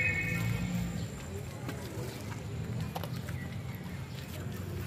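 A horse carrying a rider on a horseback ride, hooves clip-clopping under outdoor ambience while people talk nearby.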